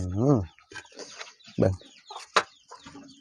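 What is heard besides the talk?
chickens clucking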